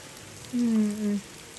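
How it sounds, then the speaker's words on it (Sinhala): Rain falls steadily on a rainy day as a soft, even hiss, briefly overlaid by a short humming tone near the middle. "ඔන්න ඉතින් වායමත් වැස්ස පටන් ගත්තා."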